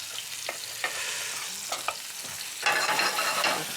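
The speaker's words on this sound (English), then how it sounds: "But I will saute the liver a bit later. First, the gizzard for a minute or so." Chicken gizzard sautés in a pan, a close hissing sizzle with a few sharp stirring scrapes, swelling louder toward the end.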